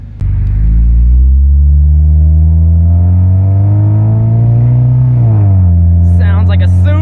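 A lifted off-road Honda CR-V with a new exhaust idles loud and close, a deep steady rumble that rises slightly before settling, with a voice briefly heard near the end.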